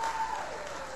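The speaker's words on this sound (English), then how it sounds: "Give them all three a big round of applause." Audience applause at a live comedy show, a dense wash of clapping that fades slightly over a short second, heard on its own.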